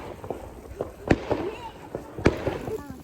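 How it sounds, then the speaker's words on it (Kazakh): New Year fireworks going off just ahead outdoors in the snow, with two sharp, loud cracks standing out among smaller pops while people talk over them. "О, тура алдымызда салют атып жатыр ғой."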